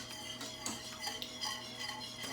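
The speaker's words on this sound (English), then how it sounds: "I think I'm whisking too fast" A whisk beats a thickening sauce in a pan for scalloped potatoes, giving quiet, rapid scraping and clinking strokes in an uneven, continuous rhythm with no talking.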